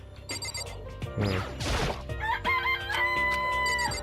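Chickens in a coop in the Danganronpa video game, with a loud rooster crow in the middle, scattered clucks around it and ringing, tonal game-like calls toward the end, all with no talk.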